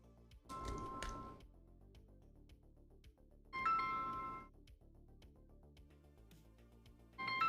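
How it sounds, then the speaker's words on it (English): An incoming phone call rings in American Truck Simulator as a repeating electronic tone in three bright bursts, each lasting about a second, set against a quiet in-game background. "Oh, I got a phone call coming in."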